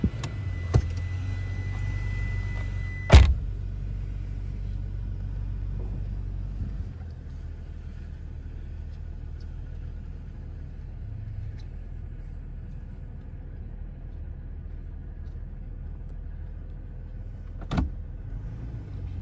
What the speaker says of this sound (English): I'm going to put the truck in reverse